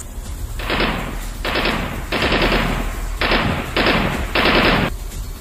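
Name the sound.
HK416 rifle gunfire sound effect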